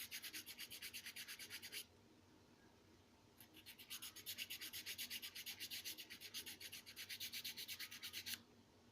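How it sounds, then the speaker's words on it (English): A metal file rasps across a metal washer in fast, rhythmic strokes. There is a brief pause between two runs of filing, and it is close and clear with no speech. "You file it back down."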